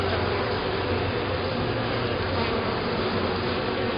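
Honeybees swarm around an open hive during an inspection, a dense continuous buzzing drone that holds steady and close with no break.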